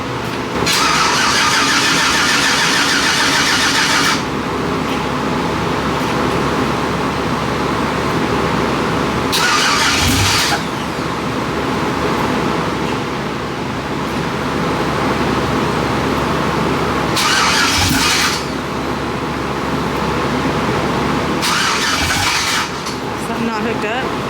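A car engine cranks and catches, then idles roughly with repeated revving surges, loud and close, with people talking over it.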